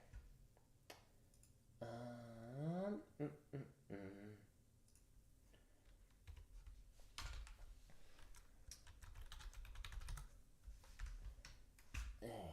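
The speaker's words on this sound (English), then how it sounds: "let me type something in real quick" A computer keyboard being typed on during a drum technique practice stream: faint, irregular clicking keystrokes that come in quick runs, low in level, with some other quiet background sounds between them.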